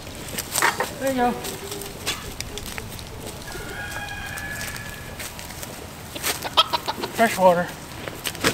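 Chickens cluck in short bursts near and far, with quieter rustling and movement between the calls and a few sharp cries near the end.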